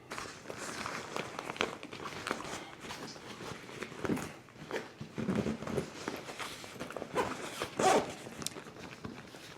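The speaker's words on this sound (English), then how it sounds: "I'm pretty much able to zip that up easily." A travel bag's zipper is pulled closed in repeated quick rasping strokes, close and fairly soft, with light rustling of packed items and no talk.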